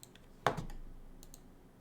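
Key presses on an HP financial calculator: a few light plastic clicks, with one sharper, louder press near the middle, close and quiet with no talking.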